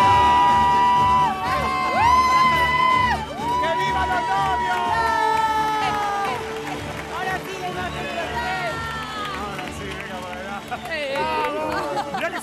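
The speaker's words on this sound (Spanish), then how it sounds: "más fuerte el aplauso" A television studio audience on a Spanish-language variety show claps and cheers steadily as a champion is welcomed, a loud continuous crowd sound with a host speaking over it.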